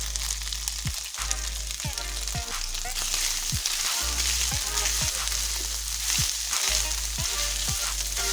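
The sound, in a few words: frying keema with spices in a pan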